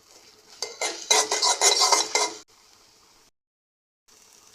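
Beaten eggs with onion, green chilli and salt scrambled in oil in a kadai: a quick run of loud metallic scraping and clinking strokes against the pan, then quiet and a short silence.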